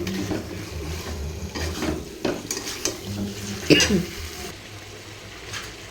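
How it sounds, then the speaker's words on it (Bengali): Meat being browned with spices in a pan, with steady stirring scrapes and light clinks of utensil against the pan over a continuous low kitchen hum, one sharper scrape standing out near the end. "আর ওদিকে মাংস হচ্ছে, যে মাংস কষা হচ্ছে।"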